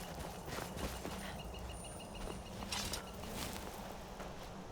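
Horse hooves clip-clopping at a steady walking pace in the video game Skyrim, soft and fairly close over a low background hum of game ambience.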